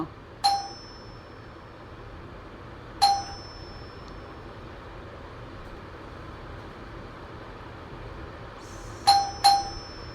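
A household doorbell chimes four times: two single dings several seconds apart, then two quick rings close together near the end, each crisp and clear over a quiet indoor background.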